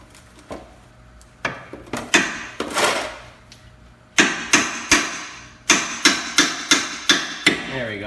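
Hammer driving a wheel bearing hub into the steering knuckle of a 2001-2012 Ford Escape: about a dozen sharp, close knocks, scattered at first, then a steady run of evenly spaced blows, with no talk.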